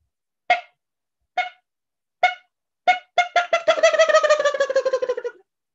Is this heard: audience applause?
no